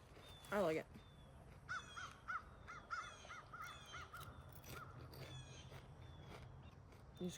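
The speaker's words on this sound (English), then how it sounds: "These crows are very talkative." Crows caw repeatedly in short bursts outdoors during a road trip through Cape Breton Highlands and Prince Edward Island, Canada, moderately near over a low hum, with a louder rustle early and faint talking at times.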